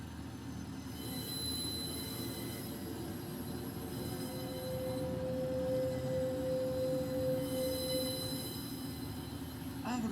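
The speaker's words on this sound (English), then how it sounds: "Oh, there's another train leaving." Simulated train in Train Simulator on the Airedale Line, a Class 142 unit heading to Bradford Forster Square from Skipton, gives a steady loud rumble of wheels with a long high flange squeal running through it, alone with no talk.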